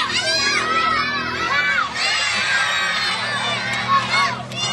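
A crowd of children shouts and cheers together at a church children's ministry food drive, a loud, continuous, overlapping roar of young voices that holds steady for several seconds.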